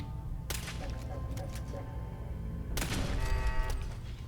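Gunfire bursts from turrets in the video game Fallout 4, two sharp cracking volleys with ringing tails over a low rumbling game background.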